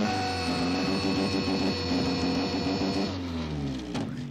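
A car engine from the 1986 film Ferris Bueller's Day Off runs loud and steady, a harmonic rumble that drops in pitch near the end, with no speech.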